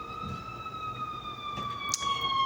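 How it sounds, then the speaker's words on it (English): A steady, piercing ambulance siren wails as it passes, holding a high sustained tone at moderate distance with faint background rumble. "an ambulance going by"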